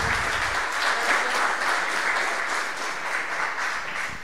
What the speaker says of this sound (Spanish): Un fuerte aplauso para Silvia.